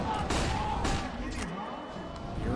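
Pistol fire in a Counter-Strike esports match: several sharp gunshots cracking in quick succession, moderately loud, under a caster's voice and game ambience.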